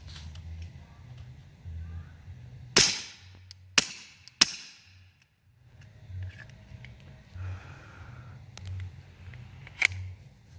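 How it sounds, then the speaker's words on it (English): Pistol shots fired into dirt outdoors with a weapon light and laser mounted: three sharp, loud cracks in quick succession, then a fainter fourth shot, over low background rumble and handling noise. "we're gonna shoot some in the dirt"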